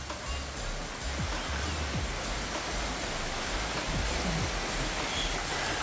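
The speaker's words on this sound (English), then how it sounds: "it's 27 degrees and it's raining." Steady rain falling in a warm tropical rainforest, a dense, even hiss of drops on leaves with a few faint low bumps, continuous and enveloping with no voices.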